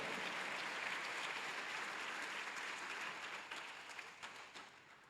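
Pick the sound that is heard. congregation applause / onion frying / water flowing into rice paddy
congregation applause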